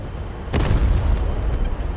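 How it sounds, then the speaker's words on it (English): A heavy anti-aircraft flak burst in a flight simulator game: one sharp, loud close boom that rolls into a sustained rumbling roar, with a fainter second pop near the end. "Yeah, we're taking flak."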